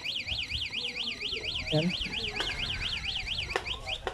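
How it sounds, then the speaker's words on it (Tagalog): A EURO FLASH/VPERMAN 150 car alarm sounds during a test, its loud siren warbling rapidly up and down in a steady cycle, with someone talking briefly underneath and a few clicks. "So, try mo natin yung alarm nya."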